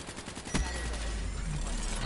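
Gunfire in Call of Duty Black Ops 3 multiplayer team deathmatch on the Skyjacked map: a sharp shot followed by a steady, dense rumble of weapon noise, loud and close, with no talk.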